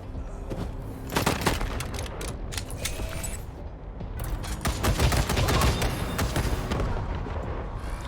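Gunfire in Wasteland 3, rapid crackling volleys of shots and booms in dense bursts, loud and continuous through the scene.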